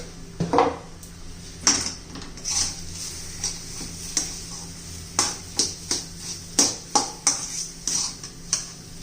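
Peas and gram flour being stirred in a pan for paratha filling, with a spoon scraping and knocking against the pan in a run of clinks that come more regularly toward the end, close and without talk.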